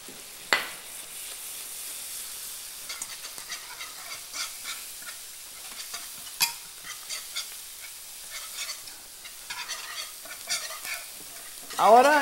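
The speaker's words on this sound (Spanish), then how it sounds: "Ahora en este roux que estamos preparando vamos a ponerle la sal y la pimienta. Y seguimos revolviendo este roux." A roux of flour and chicken stock stirred in a pan, with soft scraping and a gentle sizzle continuing quietly, close and low in level, with a brief louder scrape at the end.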